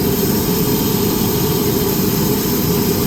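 Aircraft engines running steadily on a rainy airport tarmac at Nagasaki, a continuous loud low roar with jet whine that stays constant throughout, with no talk.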